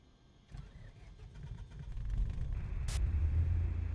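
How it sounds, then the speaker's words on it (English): A simulated aircraft engine starts up in Microsoft Flight Simulator 2020 with the Neofly4 addon: a click, a rising whine, then a low rumble that builds and settles into a steady hum. "Start up the engine."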